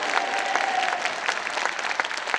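Dense, steady applause from a large congregation fills a church revival meeting in a Busan convention-centre auditorium, with many hands clapping at once and no break in the sound.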